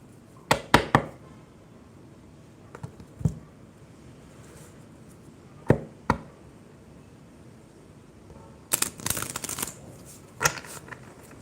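Cards shuffled in several quick, crisp riffles separated by pauses, close and fairly loud against a quiet room.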